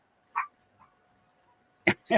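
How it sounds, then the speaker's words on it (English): A dog gives a few short, sharp barks indoors: one early yip, a faint sound, then two louder barks close together near the end, with quiet between. "She's going to bark all night now."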